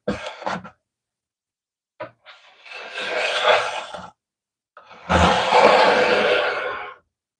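A steel card scraper is drawn across a wooden surface in three separate passes: a short rasp, a longer rough scrape, then a long, loud, close shaving stroke, with silence between them.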